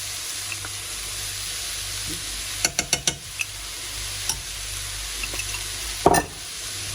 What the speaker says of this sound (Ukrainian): Гарно все перемішуємо, даємо чуть-чуть протушкуватися